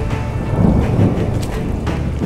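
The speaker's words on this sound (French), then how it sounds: "il y a un énorme orage qui arrive" A thunderstorm breaks over a fishing pond: steady heavy rain hisses throughout, with low rumbling thunder swelling in the middle, close and loud.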